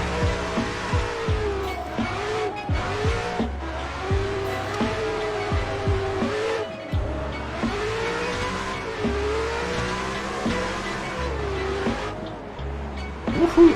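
Drift cars in a sim racing game fill the scene with continuous engine revving that rises and falls, bouncing off the limiter, plus intermittent tire squeal, loud and sustained throughout with no talking.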